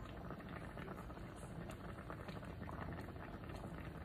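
Bacon cooking in a pan, a steady dense sizzle and crackle that stays even and continuous throughout, close but low in level, with no speech over it.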